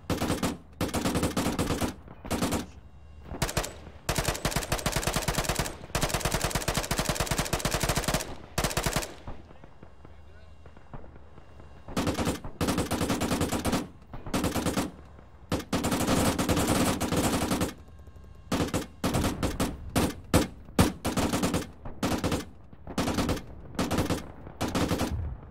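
ARMA 3 combat gunfire plays as repeated bursts of automatic fire and single shots, broken by short gaps, with dense rattling volleys at the start and at the end.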